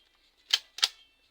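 Two crisp mechanical clicks of a Polaroid Photophone In-A-Snap film camera shutter, close and distinct, a fraction of a second apart in an otherwise quiet room.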